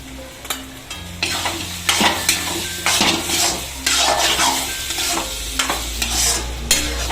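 Eggplant curry with tomato and spices stirred in a pan, a spoon scraping and clinking against metal over a steady close sizzle, with no talking.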